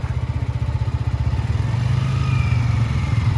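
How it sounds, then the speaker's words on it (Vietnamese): A motorcycle engine is started briefly to pump oil up before riding. It gives a close, steady idle with a rapid pulsing thump that firms up and grows slightly louder partway through. "Lên mô tô là mình đề xíu cho nó bơm nhớt lên rồi mình chạy."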